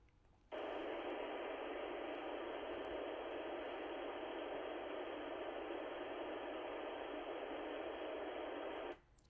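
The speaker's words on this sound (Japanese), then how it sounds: "じゃあまずは飛行機みたいなノイズ、結構音大きいんですけどどうかな。" Loud, steady airplane-cabin-like noise played back through a DJI Mic 3, starting abruptly, holding a constant broadband roar for about nine seconds and then cutting off, with no talking over it.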